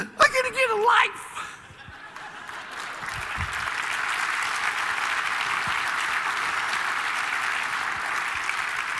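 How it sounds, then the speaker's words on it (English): Keynote audience breaks into sustained applause after a brief burst of laughter, a dense even clatter of many hands filling the hall and holding steady to the end. "Thanks for clapping, because I got to take a breath after I do that."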